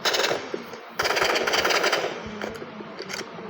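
A small, cheap firecracker toy fires rapid rattling bursts of shots up close, one loud burst followed by a second that trails into quieter crackling pops.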